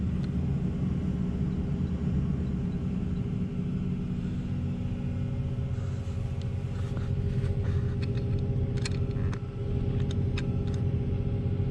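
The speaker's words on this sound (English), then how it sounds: "And our truck's coming back now." Heavy dump truck driving back to a sand plant to be loaded, heard as a steady low engine rumble held close and loud throughout, with light clanks and rattles joining in over the last few seconds.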